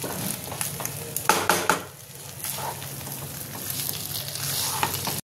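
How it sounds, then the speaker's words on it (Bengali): Chicken chilli garlic rice being stirred and tossed in a frying pan: a sizzling base under scraping, clattering spatula strokes, busier at first and then settling into a steady fry near the end. "ভালো করে মিশিয়ে নেবো আমি।"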